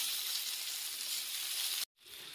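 Chopped calabresa sausage sizzles steadily in a pan, a close, even hiss that cuts out briefly near the end and then comes back.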